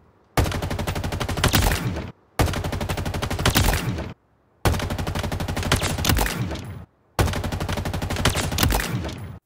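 Assault rifle fire in Halo Infinite, four sustained full-auto bursts of rapid, loud shots, each around two seconds long and split by brief silent gaps, with no talking.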